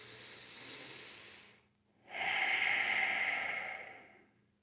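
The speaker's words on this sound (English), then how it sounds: "3 deep breaths." Two deep breaths drawn slowly during a guided meditation, a soft airy inhale followed by a brief pause and then a longer, fuller exhale, close and alone with no talking.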